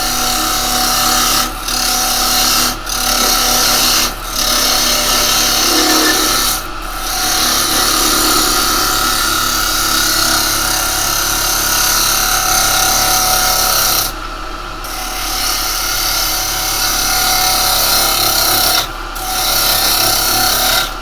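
A carbide cutter shears zebrano hardwood on a woodturning lathe, a loud continuous rasping scrape with a motor hum underneath, broken by short pauses as the tool lifts off, with no talk.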